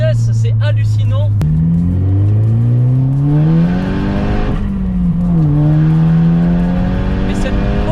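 A Stage 2 VW Polo tuned to 370 hp accelerates hard in third gear with a manual gearbox, its engine note climbing loudly in a rising drone that briefly drops and climbs again, heard from inside the car with someone talking over it.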